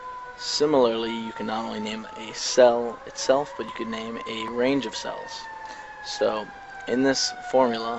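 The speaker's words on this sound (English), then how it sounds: "hope you can hear the sirens in the background" Emergency sirens wail faintly in the background as a steady, slowly shifting tone beneath continuous spoken explanation.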